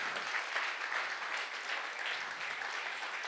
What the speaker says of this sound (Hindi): एक बार प्लीज जोरदार तालियां बजा दीजिए